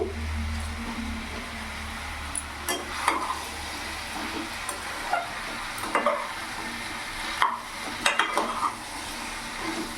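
Squash and boiled soybeans being stirred and fried in a pan over a medium gas flame, with a steady low sizzle throughout and repeated scraping clinks of a spatula against the pan, close and fairly loud, with no talking.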